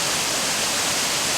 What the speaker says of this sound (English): A beautiful waterfall.